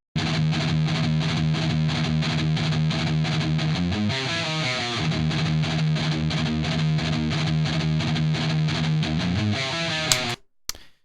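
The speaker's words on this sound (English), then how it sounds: "for the right guitar, this is our close mic sound, no effects." A heavily distorted electric guitar, close-miked with no effects, plays sustained chords up close, with a chord change midway, then cuts off sharply near the end.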